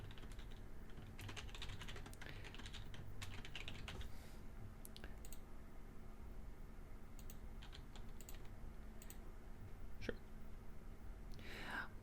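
Keys on a computer keyboard are tapped while a temporary password is entered, a scattered run of soft clicks and a few sharper strikes over a steady low background hum for about twelve seconds.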